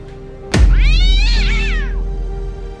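A cat gives one loud, drawn-out meow that rises and falls, close to the microphone and heard alone over a low steady background hum.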